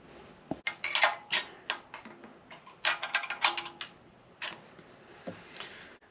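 A KsTuned manual timing belt tensioner is tightened on a Honda H22a engine: a close, irregular series of sharp metallic clicks, taps and ratcheting ticks with brief pauses between bursts.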